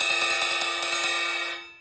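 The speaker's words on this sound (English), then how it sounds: "Using drumsticks, you can play the suspended cymbal like a ride cymbal." Drumsticks tap a suspended cymbal in a quick ride-cymbal pattern of about a dozen bright pings over a shimmering wash, then the ringing fades out alone.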